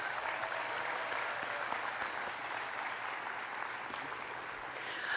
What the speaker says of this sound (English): Can I please get a round of applause for the many volunteers who made tonight possible?